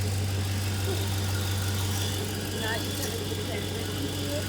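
A 300k+ mile Chevrolet Suburban engine runs at a steady idle, close and continuous, with a constant low hum and faint vibration throughout.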